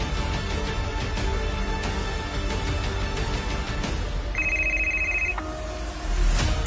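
A telephone rings with a brief electronic trill over a dense, steady background of music, heard in the middle of a tense dramatic scene.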